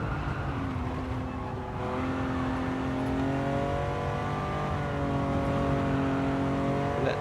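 A Lamborghini Miura P400 Prototype races in Gran Turismo 7, its engine droning steadily with shifting pitch as it pulls through corners, continuous and close, with no talking.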